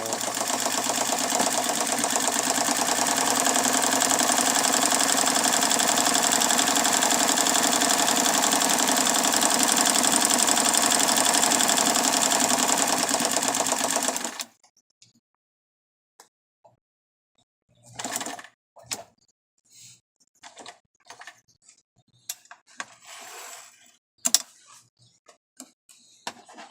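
Sewing machine fitted with a buttonholer attachment stitching a dense buttonhole: a steady, loud rapid mechanical whir for about fourteen seconds, then stopping abruptly, followed by scattered quiet clicks and handling noises.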